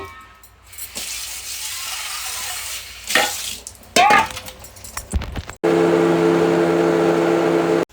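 Coconut, onion, garlic, coriander and spices are ground into a paste: handling clatter and rattles come first, then a loud, steady motor whine runs for a couple of seconds and stops abruptly.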